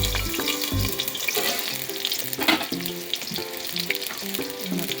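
Chopped onions hit hot oil for an egg curry and fry with a loud, steady crackling sizzle, a few bumps and stirring sounds mixed in, with no voices.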